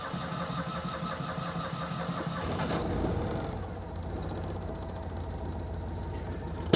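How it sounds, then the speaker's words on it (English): A Citroen 2CV engine cranks and catches, then settles into a steady, close idle that runs unbroken to the end, with a short knock at the finish. "start the engine"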